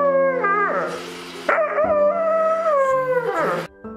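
A Labrador dog with burns over its whole body howls up close, long mournful wails that rise and fall in pitch, with a short break between them and no other sounds.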